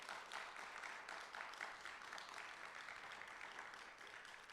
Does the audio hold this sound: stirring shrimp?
no